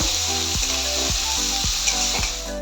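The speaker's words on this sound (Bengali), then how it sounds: "পেঁয়াজটাকে আমি এখন ভালোভাবে ভেজে নেব।" Chopped onions fry in hot oil with dried red chillies and whole cumin, giving a loud, continuous close sizzle broken by regular rhythmic scraping strokes of a spatula roughly every half second.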